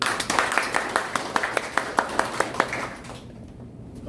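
Audience applause at a lecture hall talk, a small crowd clapping in a brisk, even rhythm of sharp hand claps that stops abruptly near the end, a voice briefly present.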